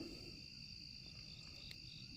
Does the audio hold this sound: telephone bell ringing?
no